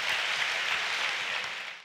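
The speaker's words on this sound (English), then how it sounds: "Clap hands for yourselves." Dense, continuous hand clapping from a crowd at a church night service, a steady wash of applause that fades slightly toward the end.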